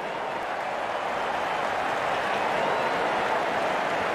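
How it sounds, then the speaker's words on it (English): Steady broad wash of crowd applause and cheering at a cricket match, Pakistan versus Afghanistan World Cup game, greeting a batsman's half century; continuous, moderately loud, no distinct individual claps or voices. "Half century for this man. Well appreciated by the teammates and crowd."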